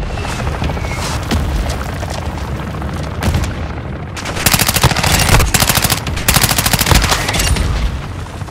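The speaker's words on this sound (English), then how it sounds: "Friendly mortar strike inbound." Dense bursts of gunfire and booming mortar explosions from a Call of Duty: Modern Warfare II match, rapid cracking volleys broken by short pauses.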